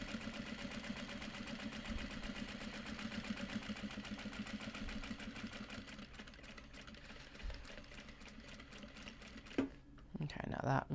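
A sewing machine runs a short-stitch seam through Japanese fabric, its rapid steady mechanical whirr continuous and close for most of the time before stopping near the end, with a voice talking over it.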